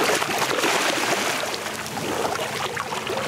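Someone wades into clear sea water off Koh Phi Phi, Thailand, with close splashing, swishing and trickling water throughout.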